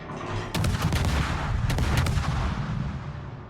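Naval guns fire from a warship in a video game, a burst of sharp booms and crackling reports that roll into a dense, sustained rumble of shellfire, moderately loud with no voices.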